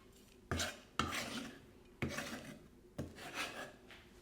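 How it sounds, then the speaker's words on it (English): A knife slices chili finely on a board for a lemongrass beef marinade, giving four sharp chopping strokes, each followed by a short scraping rasp, close and clear with no talking. "Just going to cut that a little bit finer, just so it spreads across the marinade a little better."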